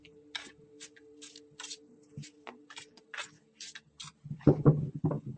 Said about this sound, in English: Kind of difficult to shuffle, I know